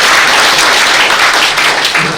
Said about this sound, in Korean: 네, 박수 한번 칠까요?